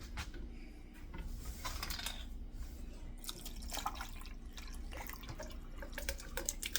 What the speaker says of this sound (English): I'm gonna pour some more water in it and let her catch it down here.